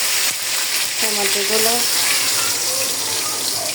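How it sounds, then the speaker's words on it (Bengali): Chopped onions and tomatoes hit hot oil and fry with a loud, steady, close sizzle and hiss that fills the whole moment. "এখানে পেঁয়াজ কুচি, টমেটো কুচি নিয়ে নিলাম, তেলের মধ্যে এগুলো দিয়ে দিলাম"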